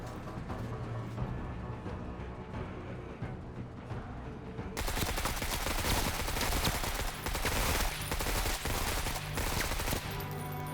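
Weapons fire in the sci-fi tactics game Menace: a low rumbling bed gives way abruptly to a dense, loud burst of rapid shots that continues to the end, with no talking.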